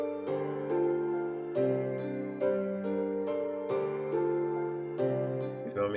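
Layered electronic production track where a synth melody plays over a piano part, steady chord hits repeating in an even rhythm, loud and alone with no talking.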